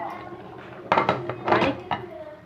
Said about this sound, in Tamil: மூடி போட்டு வச்சுக்கலாம்